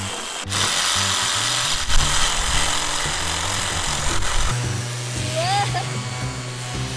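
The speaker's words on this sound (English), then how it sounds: "This is the drill." A power drill whirs in bursts at close range, its motor pitch shifting as it runs on and off, with some rubbing and handling noise between the runs.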